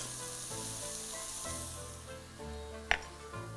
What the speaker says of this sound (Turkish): Bu böyle sotelensin.